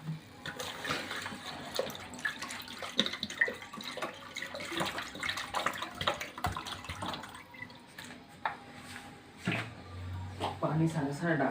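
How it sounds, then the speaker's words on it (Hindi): Water poured from a tap into a cooking pot of chicken and bones set to boil for soup, a steady close gushing and splashing that runs beneath someone talking throughout. "पानी सारा सारा डाल के"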